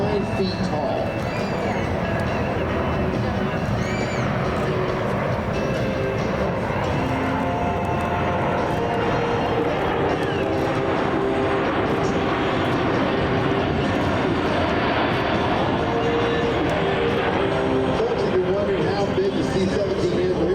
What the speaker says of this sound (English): As the aircraft approaches